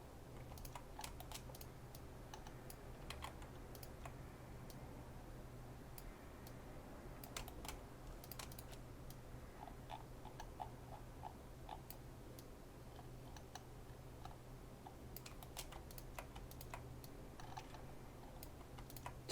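Quiet, irregular clicking of computer keyboard keystrokes during 3D modelling in Blender, scattered taps and short bursts over a low steady room hum, no talking.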